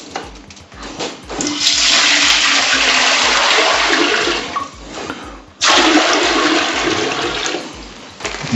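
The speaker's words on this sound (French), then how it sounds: "Je viens y mettre de l'eau." Tap water runs hard and steadily into a large cooking pot on a home gas stove, a loud rushing fill that pauses briefly before surging again, with no voices.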